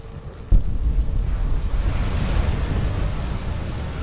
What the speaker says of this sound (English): Pretty windy.